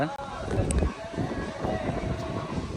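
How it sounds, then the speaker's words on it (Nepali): Strong wind roars steadily in low, broadband gusts, with a loud rumbling buffet throughout and a brief dip near the start. "बवाल हावा चल रहेछ बवाल हावा चल रहेछ"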